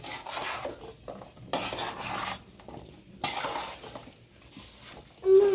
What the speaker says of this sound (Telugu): ఇప్పుడు ఇందులో మామిడికాయ ముక్కలు అనేది కలుపుకుంటున్నారు